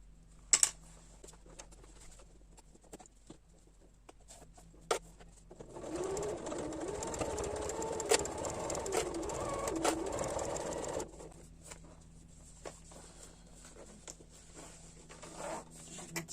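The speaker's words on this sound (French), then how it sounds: "Et là, je commence à coudre à partir d'ici." A sewing machine stitches fabric in one steady run of about five seconds, a close, rapid whirring chatter. Quieter handling clicks and fabric rustles come before and after it.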